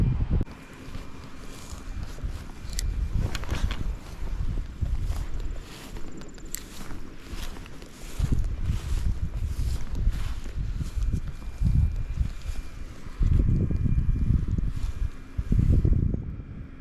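Wind buffets a small boat during fall perch fishing, gusting steadily across the microphone with low rumbling surges. Faint knocks and shuffling on deck come through between gusts.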